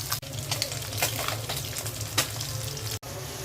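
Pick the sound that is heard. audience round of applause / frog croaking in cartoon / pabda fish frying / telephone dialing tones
pabda fish frying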